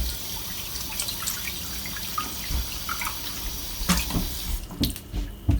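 Tap water runs steadily into a kitchen sink as vegetables are rinsed under it, with a few clinks and splashes near the end and no talking.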